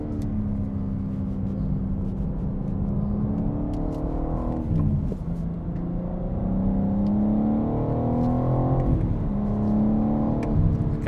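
A BMW M4 lapping the Nürburgring, heard from inside the cabin. The engine note climbs through the gears, dips at two shifts and rises again, with a loud, continuous drone and no talk.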